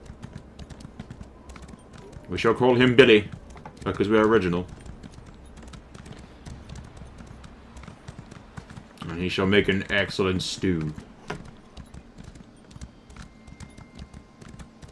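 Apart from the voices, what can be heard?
horse hooves galloping in video game Elder Scrolls Online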